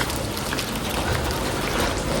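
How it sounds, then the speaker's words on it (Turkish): Heavy rain pouring on the streets of Batumi, Georgia, a dense, steady hiss of drops striking pavement and umbrellas, loud and continuous throughout with no talk. "İnanılmaz yağmur yağıyor."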